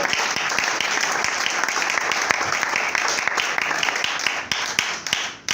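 A church congregation at a worship seminar claps and cheers, a dense, sustained burst of applause with scattered shouts that thins slightly toward the end.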